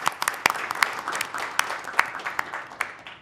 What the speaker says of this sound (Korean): 감사의 박수를 한번 드리겠습니다.